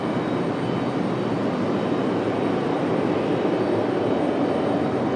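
An American Airlines Airbus A319, delivered in 2000, departs Raleigh-Durham for Philadelphia, its jet engines giving a steady, loud, unbroken roar.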